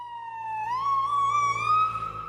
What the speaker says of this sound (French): Vous avez tous entendu le changement de tonalité d'une ambulance quand elle se rapproche ou elle s'éloigne.